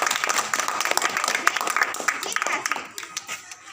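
Audience applauding at a school Hindi quiz competition, greeting the second-place house: dense, steady clapping from many hands that thins toward the end, with a voice faintly present beneath.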